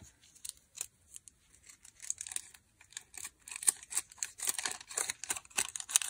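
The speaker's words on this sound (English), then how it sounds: "If you leave it like this, you cut a heart shape." Paper being cut into a heart shape with scissors, crisp snips and crinkling paper close by, sparse at first and then quicker and denser, with no voices.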